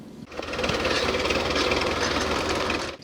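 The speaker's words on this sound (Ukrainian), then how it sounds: "Ці трактористи працюють в тандемі, обробляють ліс, висаджений торік навесні" Two tractors working in tandem to cultivate a forest planted the previous spring give a steady, continuous engine drone with a rapid mechanical chatter, holding at an even level throughout.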